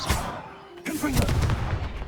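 Confringo blasting spell cast in the video game Hogwarts Legacy: a sharp explosive burst followed by a rumbling, crackling blast tail, loud and close, with game sounds layered around it.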